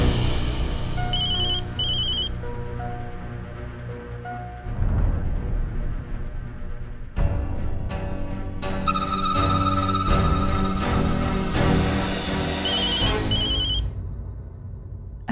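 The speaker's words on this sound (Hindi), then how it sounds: "किसका फोन है?" A mobile phone ringtone plays a repeating electronic melody loudly, with a musical TV-serial score swelling underneath, in a Hindi family drama scene.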